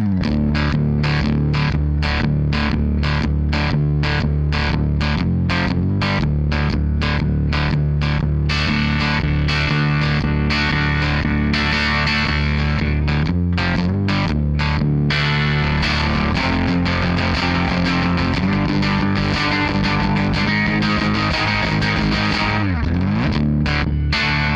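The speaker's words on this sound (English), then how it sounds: "a very versatile multi-stage distortion pedal" An electric guitar plays through a Pigtronix PolySaturator multi-stage distortion pedal, first with rapid chopped strums, then sustained saturated chords and bends, loud and continuous.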